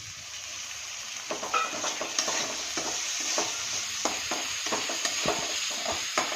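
Onion, salt and soaked lentils sautéed in a pan, a steady sizzle with repeated scraping stirs and light knocks of the spoon against the pan.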